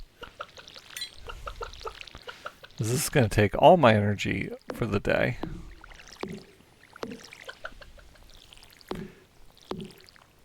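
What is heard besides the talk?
watering crops with a watering can in the video game Stardew Valley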